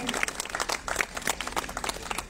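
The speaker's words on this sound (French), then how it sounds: "On peut applaudir tous les commerçants qui ont renoué avec cette tradition." Applause from an audience, a dense patter of many hands clapping together, steady for a couple of seconds at moderate distance.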